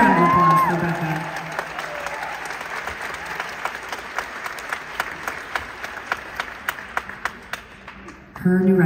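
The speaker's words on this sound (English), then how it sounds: "Huge round of applause for Becca" Concert audience at an acoustic show applauds loudly after an opening act, the clapping thinning into scattered individual claps over several seconds as a voice speaks over it.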